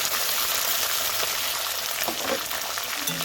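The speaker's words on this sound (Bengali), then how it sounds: "এবার আদা রসুন একটু লাল লাল করে ভেজে নেব" Ginger, garlic, onion and capsicum fry in a pan for chilli chicken, giving a steady close sizzle with a few stirring scrapes near the end.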